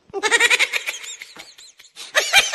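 A goat bleats in a run of wavering, nasal calls, close and fairly loud, with a short pause before a final burst of bleating.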